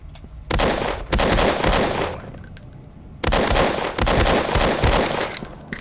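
Rapid bursts of automatic gunfire in the horror game Amnesia: True Subway Horror, two loud sustained volleys of fast shots separated by a short lull, close and dominant.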